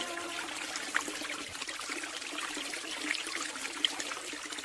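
Water flows and trickles steadily outdoors beneath a bodhi tree in a temple setting, a continuous soft babbling wash at moderate level with a few faint bright drips.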